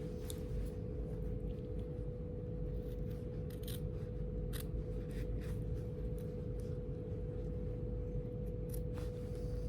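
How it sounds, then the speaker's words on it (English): Scissors snip along the edge of fabric for an upcycled jacket in short, light, irregular cuts, each faint against a steady low hum. "I'm just going to cut along the edge."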